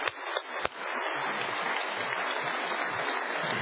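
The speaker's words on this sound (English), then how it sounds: "Give him a nice round of applause." Steady audience applause at a company annual shareholders meeting, sustained and even after a couple of sharp claps at the start, filling the hall without talk.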